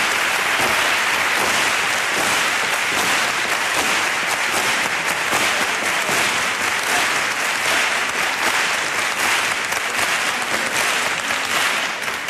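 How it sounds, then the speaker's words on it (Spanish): A large audience at the Cádiz Carnival claps steadily and loudly, a dense wash of applause that holds at the same level throughout. "Que se escuchen las palmas por alegría."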